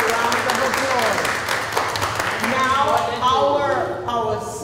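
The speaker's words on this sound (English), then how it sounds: "Well done, Brownies. Give your yourselves a round of applause." Brownies at a meeting clapping together as a group, a dense sustained round of applause that carries on under a speaking voice.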